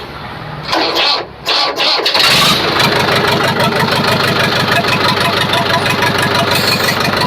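A second-hand Mahindra or Swaraj tractor engine cranks over with a couple of brief stutters and catches, then settles into a loud, steady diesel idle with a rapid even chug that continues alone to the end.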